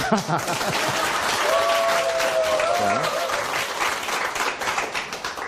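A lecture audience bursts into loud sustained applause, many hands clapping together close by, with a speaker's voice briefly heard over the clapping during a health talk.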